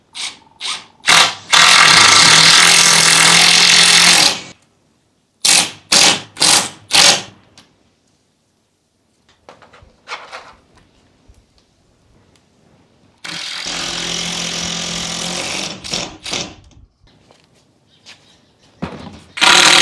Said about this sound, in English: We're going to pre-drill 2 holes, and then we're going to screw this support beam in.